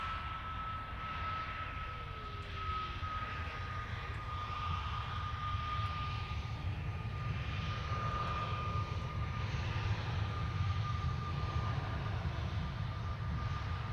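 An airliner departs Manchester Airport with a sustained engine roar and a steady high whine, fairly faint and distant, growing slightly stronger over the clip, with no talk.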